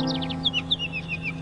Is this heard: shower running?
no